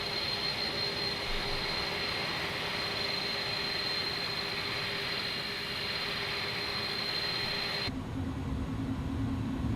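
A steady, even jet engine drone fills the cockpit of an aircraft in Microsoft Flight Simulator 2020, with a constant high tone on top, then the sound changes suddenly near the end.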